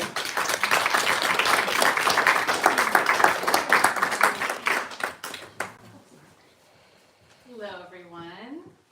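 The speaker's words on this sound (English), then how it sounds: "So if you could give her a round of applause." Audience applause for a book-event speaker at a bookstore fills the first five seconds with dense, close clapping, then fades out, leaving near silence before a voice begins speaking.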